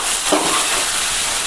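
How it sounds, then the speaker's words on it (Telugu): Onion slices for dhaba-style egg bhurji sizzle and fry in plenty of oil in a pan, a loud, close, continuous hiss with a brief scrape of stirring. "ఉల్లిపాయలు ఈ విధంగా వేగాలి."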